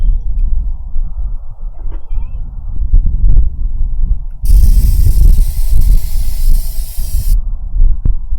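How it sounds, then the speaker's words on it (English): Carb cleaner sprayed from an aerosol can into a car engine gives a loud steady hiss for about three seconds, set among mechanical clunks and rattles. "give it a squirt of some carb cleaner because I don't have starting fluid handy"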